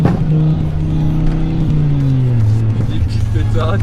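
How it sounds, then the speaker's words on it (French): Ford Focus RS engine droning close by, its pitch sinking as the revs fall off, with a few sharp exhaust crackles and pops near the end; a voice talks over it. "Des petites pétarades qui vont bien."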